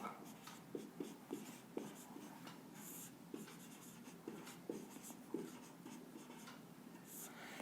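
Pen on paper while an answer is written out for an eighth-grade maths exercise: a steady run of faint scratchy strokes and light taps, close and quiet, with a low background hum.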